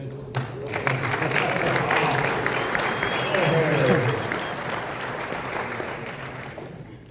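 An audience breaks into a full round of applause, a thick, sustained wash of clapping that swells slightly midway, with voices speaking over it.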